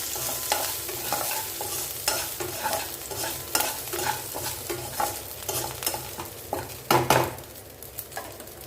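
Dried chilies, chana dal and cashews fry in a pan for coriander rice, with steady sizzling broken by frequent scraping stir strokes and clinks of a utensil against the metal, close and fairly loud.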